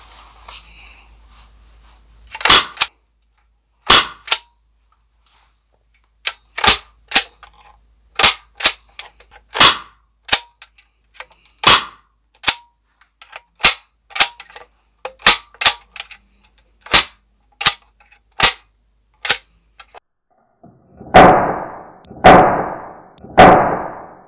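A Spanish-made full-metal GONHER UZI cap gun loaded with a 12-shot cylinder fires roughly twenty sharp, fairly muffled pops, spaced irregularly with short gaps, the final few ringing out slightly longer.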